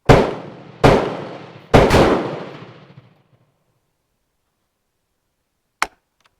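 A Bren MK2 .303 caliber gun fires three loud, sharp shots in close succession, each with a short echoing decay, followed after a pause by a single brief metallic clack.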